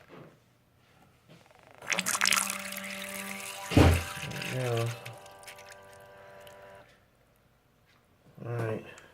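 A CafeDroid coffee machine's water pump runs in bursts, filling the reservoir with a steady humming whir and watery gurgle, close by, with someone speaking briefly between runs.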